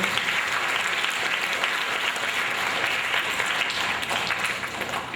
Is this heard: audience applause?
yes